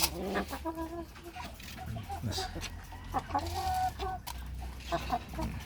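Backyard hens, including an Italian breed hen and Rhode Island hens, cluck repeatedly at close range in short, overlapping bursts against a steady low outdoor hum.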